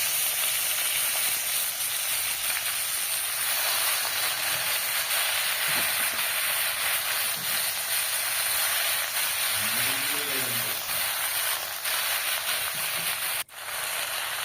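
Mustard greens dropped into hot oil with garlic and salt, giving a steady, loud broadband sizzle that holds throughout, with a brief dip near the end.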